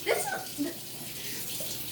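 Tap water runs steadily into a sink as it warms up in a kitchen while preparing a sourdough starter, a continuous hiss of flow with a voice briefly audible over it.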